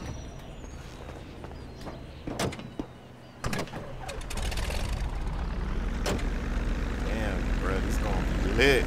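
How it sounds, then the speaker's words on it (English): Propeller airplane in a video game, the engine spinning up after a few clicks and bumps, then settling into a steady droning hum that grows louder toward the end. "I'm gonna fly the plane."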